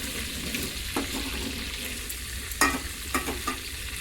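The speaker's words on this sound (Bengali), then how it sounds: "এবারে বাকি সবজিগুলো ভাজতে দিয়ে দেবো।" Leftover vegetables, including carrots, frying in a pan for a Saraswati Puja khichuri dinner, giving a steady broadband sizzle with a few sharp stirring scrapes near the end and no talk.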